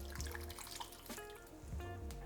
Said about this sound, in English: And then just pour that over your potatoes.